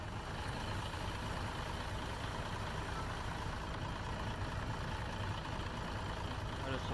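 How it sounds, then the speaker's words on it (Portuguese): A Marcopolo 1001 G7 Facelift bus idles in Euro Truck Simulator 2 with a steady, low, continuous engine rumble, even and unchanging throughout, fairly quiet, with no other sounds on top. "Vou mostrar pra vocês primeiro o barulho do motor, vou tá ligando o carro aqui."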